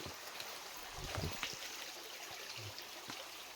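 Water trickles and burbles steadily at low volume, a continuous quiet stream with a few small splashes.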